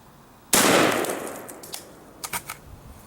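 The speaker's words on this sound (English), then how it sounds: "We're going to go ahead and take another shot and see if we can keep it in the block this time." A single loud gunshot from a 7.62x39 Wolf Military Classic 124-grain FMJ round fired into a ballistics gel block cracks out sharply, then decays, followed by a few faint clinks and knocks.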